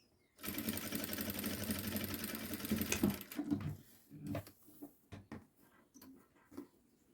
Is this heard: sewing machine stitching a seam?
yes